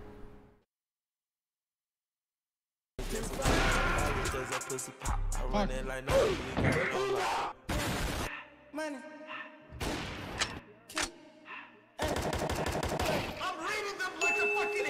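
Gunfire from a shotgun in the tactical shooter Valorant, with loud, close bursts of shots and impacts in irregular clusters, separated by short gaps and broken by brief talk.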